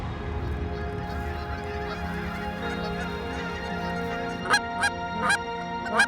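Geese flying in at a waterfowl hunting blind at the top of the flyway give a string of loud honks in quick bursts toward the end, over a steady windy background rumble.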